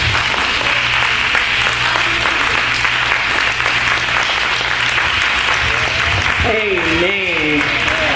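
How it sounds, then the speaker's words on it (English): A church congregation applauds a woman preacher, with dense, sustained hand clapping throughout and a voice speaking over the applause near the end. "give this woman of God a hand clap"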